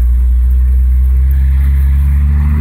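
A Jeep engine drones loud and close while accelerating on a rough road, a steady low rumble with a slight rising strain before shifting into second gear.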